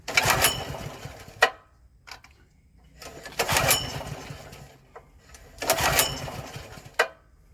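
A generator with a new carburetor is pull-started three times in a row, each long rasping pull of the recoil cord followed by a short sputter and clack, close by, without the engine catching.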